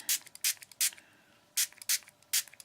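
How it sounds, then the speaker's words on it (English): A spray bottle spritzing in six sharp, close bursts, spaced unevenly, with quiet handling sounds in between. "literally just spray the background"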